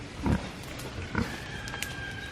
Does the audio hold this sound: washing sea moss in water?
no